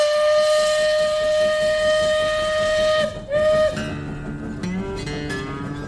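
A loud steam train whistle blows as one long steady sustained blast, breaks off briefly and sounds again in a short burst, then gives way to rumbling rolling train noise with fainter whistle tones.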